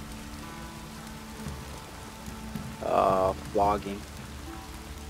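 Steady rain falls in The Witcher 3 as a soft, even hiss throughout, while a voice talks briefly over it partway through.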